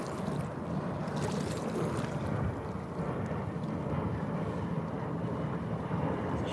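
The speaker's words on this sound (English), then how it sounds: "this boat screaming by here in just a minute. You'll probably hear them" A motorboat runs across open water, heard from a kayak: a steady, fairly distant engine drone that swells slightly and carries over the water without a clear peak.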